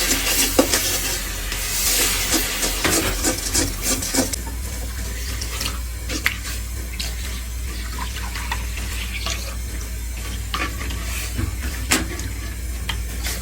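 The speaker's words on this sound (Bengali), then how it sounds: "এবার প্রথমে অল্প পরিমাণে দুধ দিয়ে দেব।" Milk poured into caramelized sugar in a pan for homemade doi, with a continuous watery hiss and bubbling, scattered scraping clicks of stirring throughout, close and fairly loud.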